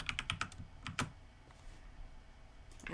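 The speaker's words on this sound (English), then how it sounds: "you should just be able to type in" Quick bursts of key clicks on a computer keyboard as a username is typed, several rapid taps early then a pause and a final few strokes, close and clear with no speech.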